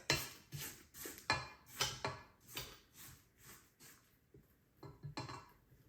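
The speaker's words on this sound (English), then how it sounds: "I'm just gonna scrape down the sides." A spatula scraping down the sides of a mixing bowl holding stiff ginger molasses cookie dough, a series of about a dozen rhythmic, close scrapes and knocks, quiet and without talk.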